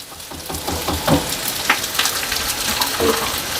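Sliced garlic hits a hot pan of cabbage being fried Southern-style, giving a close, crackling sizzle with scattered pops and stirring scrapes over a few seconds, no voices.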